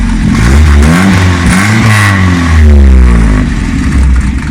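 A Soviet GAZ-24 Volga station wagon's engine revs hard from inside the cabin, rising and falling in pitch several times, loud and close, with a steady rumble throughout.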